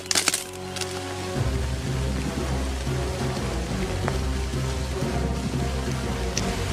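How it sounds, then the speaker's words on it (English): Steady rain falls outdoors at a campsite where firewood is being chopped for a fire, a dense continuous wash of drops on surfaces with a few sharp cracks near the start. "Oh man, the rain's coming down now."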